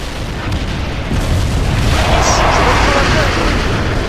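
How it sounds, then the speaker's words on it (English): Distant artillery barrages and airstrikes rumble in a World in Conflict battle, a dense continuous roar of booms and bursts that swells slightly after the first second, with faint voices mixed underneath. "Romanov, call in artillery and airstrikes on them."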